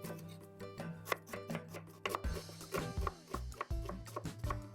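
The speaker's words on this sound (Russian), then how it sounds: "средними кусочками режу репчатый лук" Knife chopping onion into medium pieces on a cutting board, a run of sharp taps with uneven rhythm, close and fairly quiet, with no voices.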